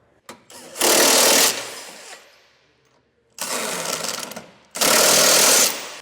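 An impact wrench with a 3/4 inch socket drives the bolts of a Class III trailer hitch on a 2024 Ford Escape, heard as three loud, close buzzing bursts of about a second each, separated by brief pauses.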